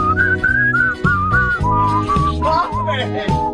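A man whistles a melodic, quick-moving tune along to a recorded song, loud and close over its brassy backing music, the whistled line weaving up and down in pitch.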